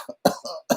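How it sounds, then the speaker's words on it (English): A person lets out a few short, close coughs in quick succession, dry bursts separated by brief silences. "a little cough here and there"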